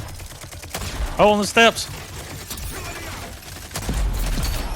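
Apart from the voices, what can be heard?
gunfire, video game Rogue Company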